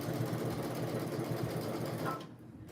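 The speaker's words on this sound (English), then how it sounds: "I can't sew straight" A sewing machine stitching fabric in a rapid, even, close mechanical patter that runs steadily and then stops, leaving faint room noise.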